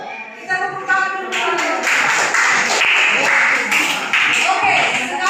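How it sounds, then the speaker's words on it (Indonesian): A classroom applauds a student group, with steady close clapping from many hands that starts after a brief pause and carries on for several seconds, with voices mixed in. "Kita tepuk tangan dulu."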